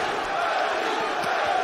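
A fight-arena crowd roars and cheers in a steady, dense wash of voices for kickboxer Buryan Peposhi at a Glory Collision super fight event, with no clear single voice standing out.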